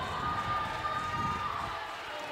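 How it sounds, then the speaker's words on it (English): A volleyball crowd chanting and cheering in a gym during a home match against Southeastern Oklahoma State, a steady mass of voices with a sustained tone running through, loud and unbroken. "crowd's doing lots of chants here"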